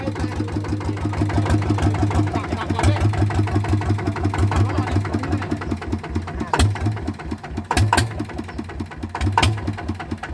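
A Yanmar 150 single-cylinder engine fitted to a Kubota tiller chugs with a rapid, regular knocking beat, close and loud, its rhythm wavering slightly, with a few sharp clanks near the end.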